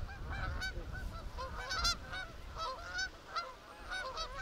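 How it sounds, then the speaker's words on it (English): A flock of geese flies over a disc golf course, honking continuously with many overlapping calls, loud and close against faint outdoor background. "There was a bunch of geese flying through his shot here."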